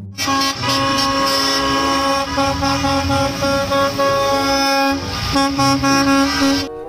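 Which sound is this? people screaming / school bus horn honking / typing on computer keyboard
school bus horn honking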